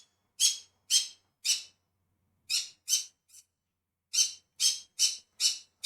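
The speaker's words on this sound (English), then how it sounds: "I have a really noisy parrot." A pet parrot squawks loudly and harshly for attention. There are about eleven separate piercing calls, close to the microphone, that come in bursts of three and four with short silent gaps between them. No voices are heard.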